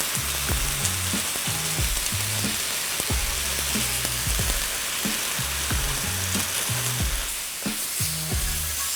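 Sliced apples seasoned with cinnamon and nutmeg fry in a hot pan, giving a loud, steady sizzle broken by regular low knocks and scrapes of stirring, with no voices.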